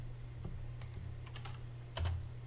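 Soft, sparse keystrokes on a computer keyboard as code is typed, a few isolated clicks and a quick cluster, faint over a steady low hum.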